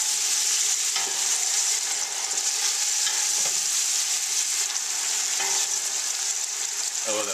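Canned chickpeas and broccoli rabe sizzle loudly and steadily in a hot pan, with occasional scraping taps as they are stirred around.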